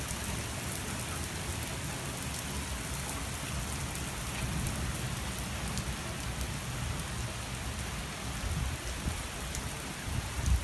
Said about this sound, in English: so now we're just doing rain stuff right now